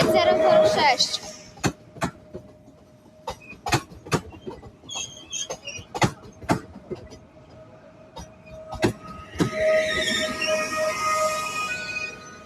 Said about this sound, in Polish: Jeszcze pociąg Sprinter Ornak ze stacji Poronin do stacji Katowice.